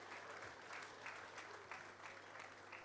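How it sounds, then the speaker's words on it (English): A crowd claps steadily and fairly loudly for a few seconds, a dense patter of applause with no voices over it. "Let it roll, let the applause roll"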